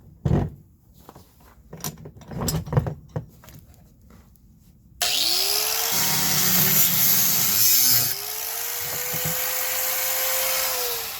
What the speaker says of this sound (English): I'm going to grind these others off.